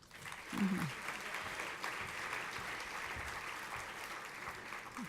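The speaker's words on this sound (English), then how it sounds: "Getting tired of clapping yet?" A crowd at a university honors graduation ceremony claps continuously, a steady wash of applause that holds at an even level throughout.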